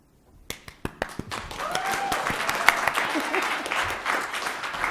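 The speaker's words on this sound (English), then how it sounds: "May we welcome them with warmth in our hearts and with a resounding round of applause." An audience welcoming guest speakers breaks into applause, starting with a few loud separate claps that quickly swell into steady, sustained clapping from a crowd filling the room.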